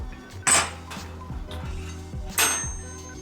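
A metal wrench clinks and clanks against the nut of a flash can muzzle device being torqued down, with a few sharp metallic knocks and rattles close by.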